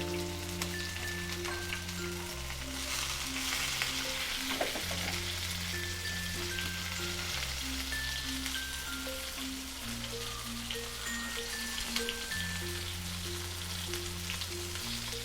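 Rava-coated rohu fish frying crisp in oil in a pan, a continuous close sizzle with light crackle, heard under steady background music.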